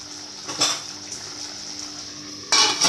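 A lid clanks onto a cooking pot of mushroom soup set to simmer, with two short metallic knocks over a steady low kitchen hum.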